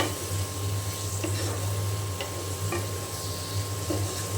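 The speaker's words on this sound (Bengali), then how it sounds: "এখন আমি মশলার সাথে খুব ভালো করে কষিয়ে নেব" Prawns cook with a generous amount of onion and spices in a pan, giving a soft, continuous sizzle with occasional light stirring taps over a steady low background hum.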